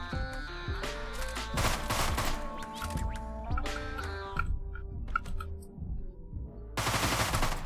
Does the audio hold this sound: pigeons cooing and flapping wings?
no